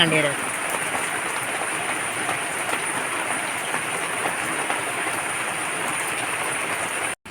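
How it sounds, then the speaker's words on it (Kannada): Steady rain pours down in an unbroken hiss, close and even throughout, then cuts off abruptly at the end. "ಮಳೆ ಬರ್ತಿದೆಯಲ್ಲ"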